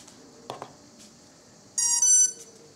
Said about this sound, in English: You hear two beep